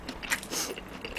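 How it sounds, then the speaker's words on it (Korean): Ham fried rice being eaten up close, with soft crunchy bites and chewing sounds in a brief burst, fairly quiet and with no talking. "자, 이거는 햄 볶음밥인데 이거 먹도록 해볼게요."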